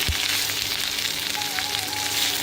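Moringa leaves sautéing in a pan for a thuvaiyal, a steady close frying hiss with light crackles that stays even and continuous without any voices.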